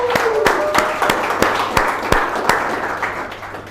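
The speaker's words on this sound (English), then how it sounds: "Let's give all of them a round of applause." Audience applause at a presentation event after people shared testimonies on stage, a fairly close mix of clapping with a few sharp, louder individual claps standing out and light crowd noise underneath.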